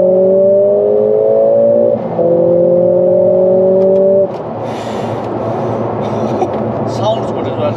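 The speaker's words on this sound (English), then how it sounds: "It's a powerful engine, you know." A Mercedes-AMG A45 S 2-litre four-cylinder engine revs loud and close, a rising strained tone that briefly dips and climbs again before dropping into a rushing roar, with people talking in the car.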